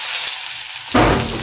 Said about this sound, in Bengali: তেল গরম হয়ে গেছে, পেঁয়াজ আমার এক্সট্রা বেশি ছিল তাই আমার পেঁয়াজটা দিয়ে দিচ্ছি।